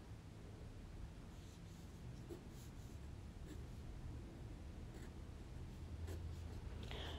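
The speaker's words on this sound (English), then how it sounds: "I'm using an ordinary large carpenter's pencil." A large carpenter's pencil sketches on paper to lay out a watercolor landscape, giving a soft, steady scratching that runs throughout, quiet and close.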